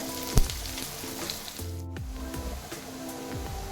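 Onions sizzle and fry in a pan with a soft, steady crackle and hiss, quiet and close, broken by a few faint clinks and stirring sounds.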